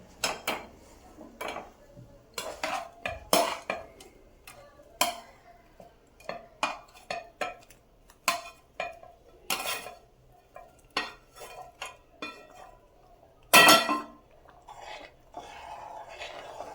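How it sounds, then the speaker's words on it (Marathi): Spoon or spatula scraping and clinking against a pan as grated paneer is stirred into a thick homemade paneer masala curry, with a steady run of close, irregular knocks and scrapes and one louder clatter near the end. "हे किसल्यानंतर मी भाजी एकदा हलवून देते आणि त्याच्यामध्ये पनीर मिक्स करूया आपण।"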